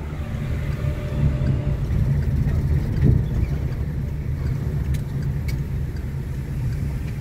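A manual car on driving-test practice rolls along the road, its steady engine hum and tyre rumble continuous and close from inside the cabin, with a brief swell midway and no talk over it.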